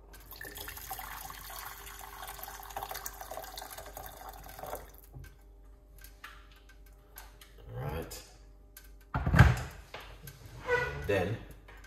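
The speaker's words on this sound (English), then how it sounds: "Into this one, 1 cup of hot water." Hot water is poured into a cup, a short splashing fill heard near the end after quiet ticking, with a person speaking earlier.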